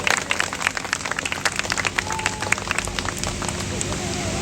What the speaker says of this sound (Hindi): जोरदार तालियां आप लिए बजाएंगे